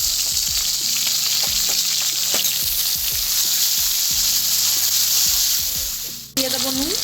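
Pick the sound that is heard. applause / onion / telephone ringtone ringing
onion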